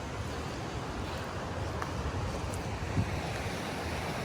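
River flowing beside a backcountry campsite in Linville Gorge, a steady close broadband rush of water with wind mixed in, continuous and unbroken, with no talking.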